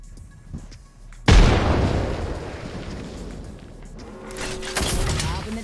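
A frag grenade blows up in Apex Legends: a sudden loud, close blast that rolls into a long broad rumbling decay, followed by further gunfire and game noise.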